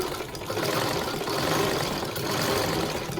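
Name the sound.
sewing machine stitching embroidery on a blouse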